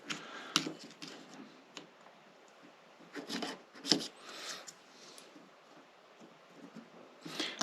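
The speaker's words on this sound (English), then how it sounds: "So we just run this on the fret. Remember, a file only cuts in one direction" Metal file rasping along the narrow frets of a concert ukulele, in a series of short scraping strokes with pauses between, close and moderately loud with no talking.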